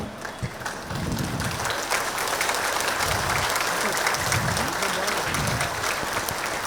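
An audience at a Charminar rally breaks into loud, sustained clapping that rises sharply and holds steady to the end, with a voice briefly heard at the start.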